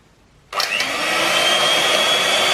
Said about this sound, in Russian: добавляем щепоточку соли и начинаем взбивать